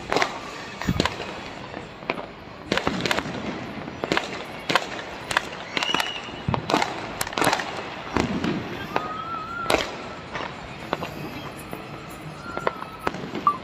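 A 100-shot firework cake fires at a New Year celebration in Hyderabad, a rapid irregular series of sharp bangs and crackles going off one after another outdoors, fairly loud, with faint voices in the background.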